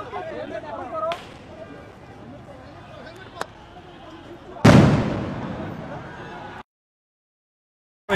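A police sound grenade thrown during a student clash at a Dhaka street crossing, one loud blast midway that rings out and decays for about two seconds, with crowd noise and a reporter speaking before it.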